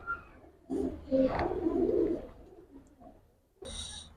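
Giribaz racer pigeons give low, throaty coos in short bursts close by, separated by quiet gaps, with a sharper call near the end.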